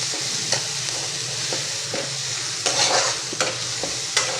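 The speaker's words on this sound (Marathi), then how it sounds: "आता कांदा आपल्याला लाल झाले, म्हणजे मिरची पण आपली जरा परतून घ्यायला पाहिजे त्याच्यामध्ये" Chopped onion and green chili sauté in a hot kadhai for tomato chutney, with crushed ginger and garlic added, a steady close sizzle broken by occasional scraping stirs of a spatula.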